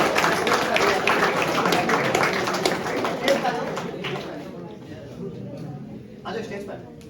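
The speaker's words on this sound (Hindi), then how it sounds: "एक बार जोरदार ताली हमके लिए।" An audience at a commemoration ceremony in Bikaner claps in a burst of applause that gradually fades, with chatter and birds cooing nearby and a brief later round of claps.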